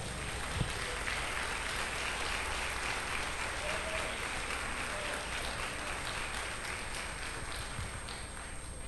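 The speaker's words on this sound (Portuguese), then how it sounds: "dê uma salva de palmas para Ele" Church congregation applauding together in a steady, sustained wash of clapping that fills the room for the full stretch, loud and continuous, with a brief voice briefly audible early on.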